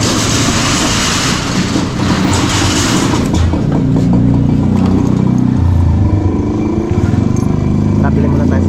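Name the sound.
motorcycle engine while parking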